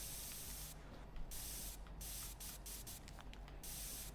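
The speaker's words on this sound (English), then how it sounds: "spray oil on the weapon and then scrub it with a brush to remove dirt" Aerosol oil sprayed onto a weapon during cleaning in the game Into the Radius 2, a steady close hiss running throughout with several short gaps where the spray briefly cuts out, no talk.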